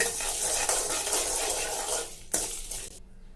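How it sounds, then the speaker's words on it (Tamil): Dried red chillies and coconut roast in a pan with a steady, close crackling sizzle and rustling stirring. One sharp clink of utensil on pan is followed by the frying sound dying away into silence. "இப்போ காஞ்ச மிளகாய் கூட வறுபட்டுடுச்சுங்க."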